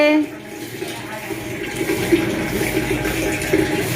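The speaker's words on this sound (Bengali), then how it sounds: "আমাদের জলটা এটা ভরে গেছে জলটা পড়তে থাক কলসিতে" Water runs steadily from a tap into a water pot as it fills, a continuous splashing pour heard close by with some background noise.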